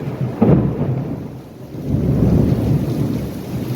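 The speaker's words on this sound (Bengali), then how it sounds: "এত ঘন ঘন বজ্রপাত হচ্ছে।" Rain falls steadily through a violent thunderstorm during a tornado, with a loud rumbling thunderclap near the start that fades and then swells again over constant heavy rainfall.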